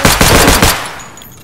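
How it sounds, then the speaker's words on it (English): Rapid Glock 17 pistol shots in Escape from Tarkov, about five close, loud cracks in quick succession, then a fading echo tail. "I really love the sound of this Glock."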